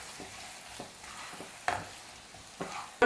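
Fried prawn pieces stirred through a biriyani mix in a hot pan, giving soft sizzling under a series of spaced scraping stirs and a few sharp clinks of the utensil against the metal, with no voices.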